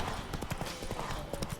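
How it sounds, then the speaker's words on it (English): Horse hooves clip-clop in a steady rapid gallop rhythm while riding on horseback in the video game The Witcher 3: Wild Hunt, moderately loud and continuous with faint talk underneath. "Let me enjoy the horse ride."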